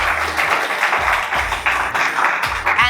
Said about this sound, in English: So let us give a big round of applause that we have achieved something great.